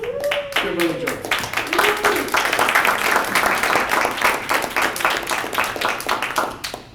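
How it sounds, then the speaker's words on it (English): Audience at a Claremont community meeting clapping to welcome speaker Kimberly Johnson, a lively burst of many hands at close range, with brief voices and whoops mixed in at the start. "I just want you to give a big round of applause and welcome to maybe the microphone"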